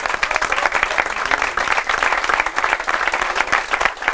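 Steady, loud applause from a crowd at an equestrian raid award ceremony in Villa de Mazo, La Palma, many hands clapping densely and continuously throughout.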